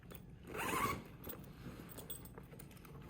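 Zipper pulled open on a three-sided zip bag for a Takacat T300LX inflatable boat, one short rasping run near the start, followed by faint handling noises.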